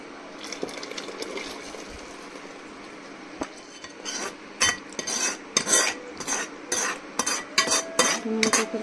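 Mutton goes into a pressure cooker in a home kitchen with metallic scraping, clattering utensil strikes and wet stirring, quiet at first and then a run of loud, close clanks and sizzling.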